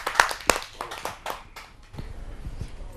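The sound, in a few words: audience applause welcoming a poet to the stage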